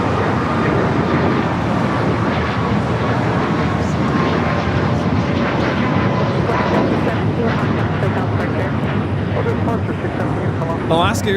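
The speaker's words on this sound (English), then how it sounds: "Alaska Airlines 332 taking off to Los Cabos on the MAX 8s in the Honoring Those Who Serve livery." Alaska Airlines Boeing 737 MAX 8 taking off at LAX, a steady loud jet roar throughout with voices talking over it.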